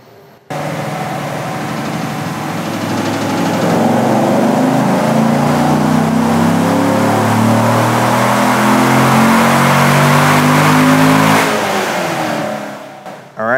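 A C7 Corvette's stock LT1 V8 revs hard on a chassis dyno, its loud, close engine note climbing steadily through the gears for about eleven seconds before cutting off abruptly.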